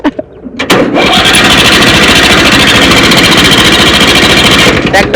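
A diesel tractor engine with a fuel problem starts with a few loud sputters, then settles into a fast, steady, heavy thumping idle right next to the listener, falling away briefly at the end.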